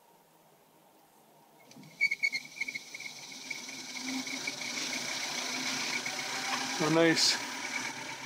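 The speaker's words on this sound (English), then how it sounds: "We're gonna start up the motor." An electric motor module in a demo rig starts up and spins, a steady whirring hum with a high whine that rises after a few clicks and continues near and moderately loud, with brief speech at the start.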